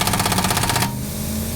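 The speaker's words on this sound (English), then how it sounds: "When you are using the hammer strength of a pneumatic air-powered wrench like this" A pneumatic air-powered impact wrench hammers at a lug nut on a Douglas all-season tire, a loud rapid rattling burst that cuts off abruptly partway through and leaves a dull hum.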